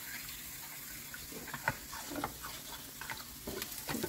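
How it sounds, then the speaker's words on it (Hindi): Gram flour (besan) batter for kadhi pakoras being stirred with water in a bowl: soft, close wet slaps and scrapes in an uneven rhythm, fairly quiet, with faint running-water hiss behind. "मिक्स करते जाएं और पानी डालते जाएं।"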